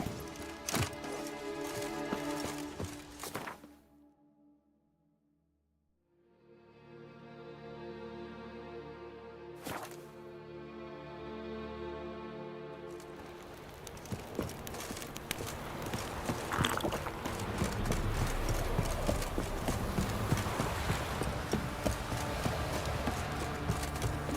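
Roach, the horse in The Witcher 3: Wild Hunt, walks with steady clip-clopping hooves, fading briefly before continuing at a close, even pace under a dense game soundscape.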